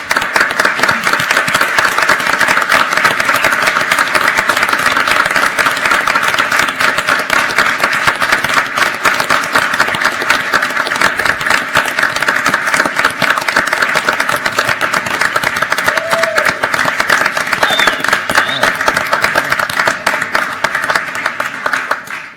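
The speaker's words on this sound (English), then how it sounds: "We'd love to recognize you guys and give you a big round of applause." Sustained applause from an audience at a Tacoma Rainiers and Seattle Sounders FC press conference honoring athletes on stage, a dense, even wash of many clapping hands that stays loud and unbroken throughout.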